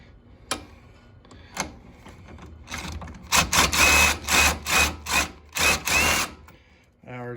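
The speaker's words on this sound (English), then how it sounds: "Next, we're going to remove this bolt." A bolt comes out of the rear hub of a Polaris Ranger during a CV boot replacement, with a couple of sharp clacks and then a loud run of rapid ratcheting bursts, close up, ending with a brief voice.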